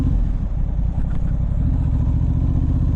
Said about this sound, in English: they cannot see you unless you have a really good exhaust like this